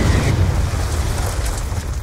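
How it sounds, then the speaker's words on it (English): Hellstorm missile strike exploding in Black Ops 2 during a Hardpoint match on the Yemen map; a heavy, rumbling low boom fills the whole stretch and fades only slightly, with no talk over it. "Friendly Hellstorm missile inbound."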